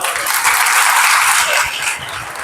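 Congregation applauding during a Mother's Day church service, a loud, dense wash of many hands clapping in a large room, sustained and gradually tapering.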